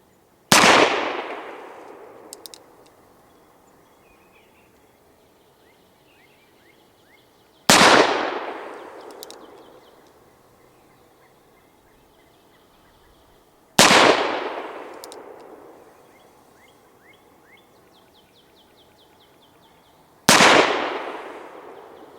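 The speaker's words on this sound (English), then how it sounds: "let's try my modern-made 38 Rimfire hand loads" Four loud, sharp gunshots from an antique Remington Police Model cartridge conversion revolver firing modern-made .38 rimfire hand loads, each crack followed by a long decaying echo and spaced several seconds apart outdoors.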